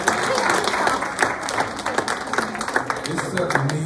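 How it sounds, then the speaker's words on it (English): A church congregation at a worship service claps in sustained applause, a dense, steady wash of many hands with a crowd murmur beneath, loud throughout. "Give Lord a hand clap of praise."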